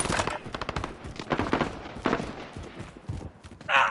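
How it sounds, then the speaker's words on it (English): Gunfire in Call of Duty Cold War/Warzone, rapid bursts of automatic fire and scattered single shots at mid distance, rattling through the whole stretch with a brief metallic clatter at the end. "There's a bit of shooting down here."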